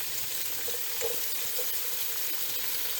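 Chopped onion frying in about three tablespoons of hot oil for an aloo baingan salan, a steady broadband sizzle with a few soft pops, close and continuous with no talking.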